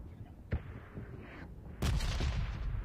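Video game combat in a battle-royale style match: a sharp gunshot, then a heavy booming explosion that rumbles on, heard faintly and at a distance with no talking.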